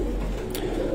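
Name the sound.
pigeon cooing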